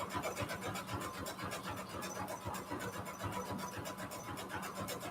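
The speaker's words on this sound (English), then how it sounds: "I'm just sewing all the way, sewing all these strips here" Sewing machine running steadily as it stitches fabric strips for a rainbow patchwork junk journal with a very small zigzag stitch, a continuous close mechanical whir with rapid needle rhythm and no talk.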